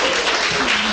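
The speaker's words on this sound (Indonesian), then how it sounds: "Tepuk tangan untuk Ustadz Abu Hilal" Dense, loud clapping from an audience at a book discussion event, greeting Ustadz Abu Hilal as a brief continuous wash of hands.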